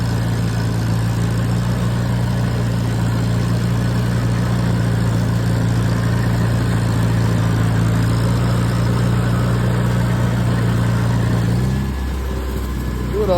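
Steady low chugging from an IH Farmall tractor mowing an overgrown field runs close and unbroken, then dips and changes pitch near the end as the engine load shifts.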